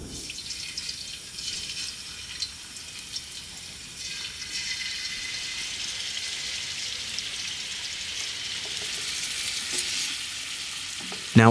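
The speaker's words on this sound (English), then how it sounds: "Now I will fry it a bit." Beef tongue fries in a pan with a constant hissing sizzle and fine crackling, steady and close throughout, ending with a brief clatter.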